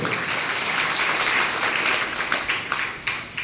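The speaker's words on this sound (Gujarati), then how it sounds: "એમના માટે જોરદાર તાળીઓ થઈ જાય." An audience breaks into applause at a state best-teacher award event, a dense wash of clapping that thins toward the end into scattered individual claps.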